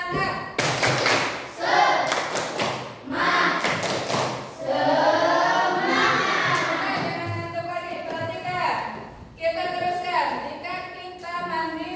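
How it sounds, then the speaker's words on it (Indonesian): A class of students does a rhythmic spirit clap in a classroom, bursts of sharp claps in patterned groups alternating with loud group chanting and talk. "Coba tepuk semangat."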